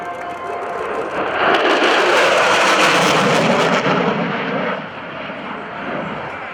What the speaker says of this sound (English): here comes Major Brian Congdon in the F-16 Fighting Falcon from the 20th Fighter Wing at Shaw Air Force Base at Sumter, South Carolina.